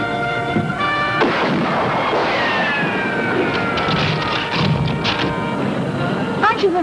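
Gunfire in a colorized TV drama set on a boat near a shore, heard as sharp cracks and bursts within a busy, noisy scene, with voices talking and a rising whistle-like tone near the end.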